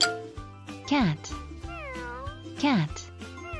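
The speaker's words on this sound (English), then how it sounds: "cat," A cat gives two clear, drawn-out meows a couple of seconds apart over light background music, near and fairly loud.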